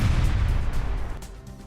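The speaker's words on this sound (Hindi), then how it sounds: "यूक्रेन सेना की तोप के हमलों से रूसी खेमे को भारी नुकसान पहुंचा" Ukrainian army artillery fire in eastern Ukraine, a heavy low boom at the start that rumbles and decays over a second or so, with fainter cracks trailing after it.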